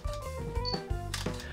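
Shutter release of a Panasonic LUMIX G3 mirrorless camera fitted with a power-zoom LUMIX G lens, heard as a couple of short mechanical clicks close up amid faint background hum.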